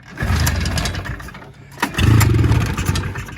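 An old barn-find Arctic Cat Jag 3000 snowmobile engine with poor compression cranks and sputters loudly in two rough bursts separated by a brief lull, never quite catching.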